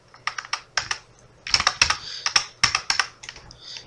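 Keys clatter on a computer keyboard while entering data into medicine distribution POS software, bursts of quick close clicks with short pauses between them, no talking.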